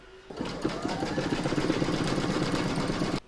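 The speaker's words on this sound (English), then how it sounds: "You're now going to pop that into your machine and stitch round number 8 to secure it" A sewing machine stitches around the edge of a fabric coaster, running in one continuous rapid mechanical chatter for about three seconds and then stopping abruptly.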